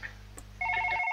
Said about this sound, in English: Stop ringing, you moronic phone.